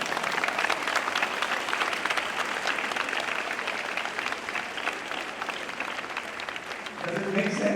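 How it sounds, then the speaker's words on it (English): A large audience at an engineering college convocation ceremony claps loudly and continuously, a dense, even roar of hands. It fades slightly toward the end as a voice starts to come through. "you have to clap for your friends who has helped you in your exam"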